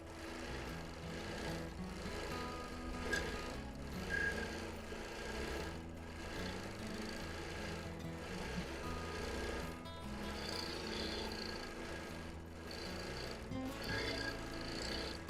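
A sewing machine does free-motion quilting on vintage 1930s feedsack fabric hexagons, running as a soft, steady mechanical hum and patter throughout, fairly faint and without pause.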